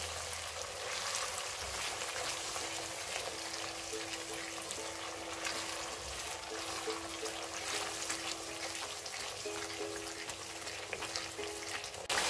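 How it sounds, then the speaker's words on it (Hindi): Masala paste fries in a pan with whole garam masala for a reshmi chicken curry, making a steady, faint, continuous sizzle with light bubbling and no talk. "एक 2 मिनट के लिए हमने पेस्ट को जो है फ्राई कर लिया है सारे साबुत गरम मसाला के साथ"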